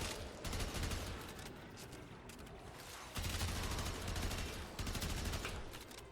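Tiburon Prime gun firing in Warframe, rapid bursts of gunfire in dense automatic volleys with brief pauses between strings, steady and moderately loud throughout.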